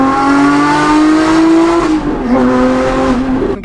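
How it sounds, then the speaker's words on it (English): Lotus Emira fitted with free-flow headers and a valved exhaust revs loudly and up close, its note climbing steadily then dipping and rising again in a sharp, exotic wail, ending on a crackle. "This might be the best sounding car that we've ever done on the Dude, channel."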